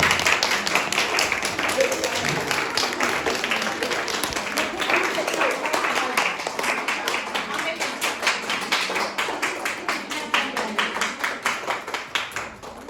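A crowd claps steadily at a Mother's Day celebration, many hands applauding for about thirteen seconds and settling into a rhythmic, unified clap toward the end.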